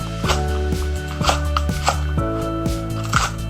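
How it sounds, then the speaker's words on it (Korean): A knife slices a stalk of green onion diagonally on a cutting board, making about ten crisp, close taps in an uneven rhythm over a steady low hum, with no talk. "대파 한 뿌리 어슷 썰어줄게요."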